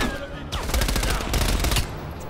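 Rapid burst of MP5 submachine gun fire in Call of Duty Black Ops Cold War, a loud close stream of fast repeated shots lasting about a second and a half, with game ambience before and after and no talking.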